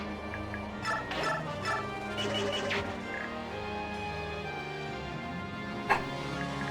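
A dog barks a few times in short, sharp bursts against a steady background of layered tonal game music and sound effects.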